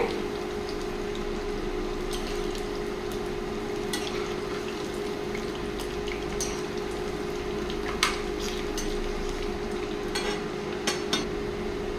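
Corn pakoda frying in groundnut oil, a steady low bubbling and sizzling with faint stirring and occasional light clinks of a utensil, continuous and fairly quiet.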